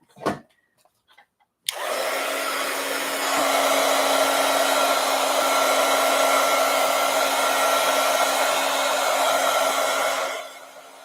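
A hair dryer is drying a wet journal page. After a few faint knocks, it switches on with a sudden loud, steady whoosh and tonal hum that holds for about eight seconds before cutting off.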